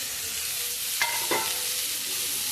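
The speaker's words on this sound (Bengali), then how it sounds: "এবারে আমি ঢাকা দিয়ে ভাজা হতে দেবো। মাঝে মাঝে নেড়ে নেবো।" Vegetable chow mein frying in a covered pan, a steady sizzle throughout with two brief, louder scraping stirs near the middle, close and moderately loud.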